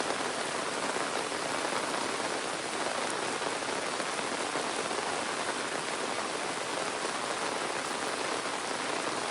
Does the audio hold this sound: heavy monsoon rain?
yes